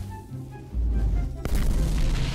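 A boss skill explodes in the video game King Legacy. There is a sudden heavy boom with a sharp crack, followed by a sustained loud rumbling roar that stays close.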